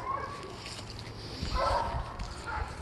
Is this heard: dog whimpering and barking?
yes